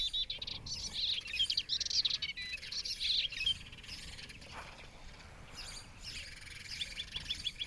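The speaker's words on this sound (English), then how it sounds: "Some birds still sing to defend their home range" Small birds sing and chirp in European scrubland at dawn, bright repeated phrases in bursts over several seconds, fairly close but quiet, with a low background hush and no talking.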